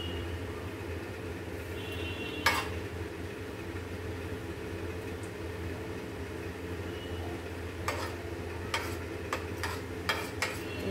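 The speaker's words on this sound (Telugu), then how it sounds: "మెంతులు బాగా ఫ్రై అవ్వాలండి." Fenugreek seeds and tomato fry in a pan for a fish curry, giving a steady low sizzle with a few sharp clicks and pops from the pan scattered over it, and no talking.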